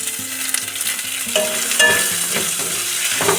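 Chopped onion sizzles and fries in hot oil with garlic and ginger while a spoon stirs it in a pan, giving a steady close crackle with repeated scraping strokes and no voices.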